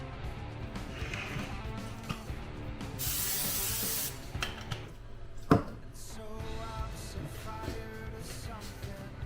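A steady hissing spray of cooking oil onto pork chops before air frying lasts a couple of seconds over a busy kitchen background with clinks and a sharp knock.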